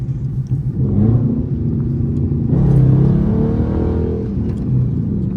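A Dodge Charger R/T accelerating hard, its engine rumbling up into a loud, sustained rev close by with a brief lift partway through, without any talking.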